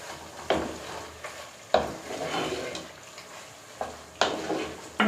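Chicken gravy for a Chettinad country-chicken fry being stirred in a pan with curry leaves and four green chilies, a spoon scraping in repeated bursts over a soft sizzle.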